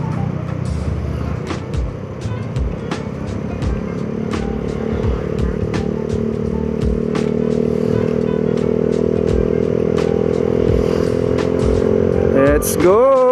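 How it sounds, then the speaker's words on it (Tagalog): A motorcycle rides along a road on a trip to Tagaytay, its engine droning steadily and rising in pitch near the end, with light rattles and clicks over the close, continuous rumble. "habang kasama mo yung motor mo"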